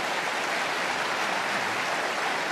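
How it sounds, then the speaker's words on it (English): A large shareholder-meeting audience bursts into sustained applause, a steady dense wash of clapping filling the hall with no break. "No need to applaud."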